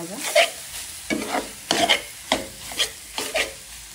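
Red amaranth greens being stir-fried in a pan, with about six distinct scraping stir strokes over a soft sizzle, close and clear with no talk.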